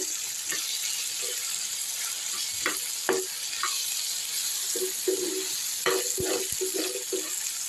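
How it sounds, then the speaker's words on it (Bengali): Okra frying and being sautéed in a pan with onion and garlic, a steady close sizzle broken by scattered scraping and stirring clatters, with no voices. "রান্নাটা হয়ে এসছে, কিন্তু আরেকটু"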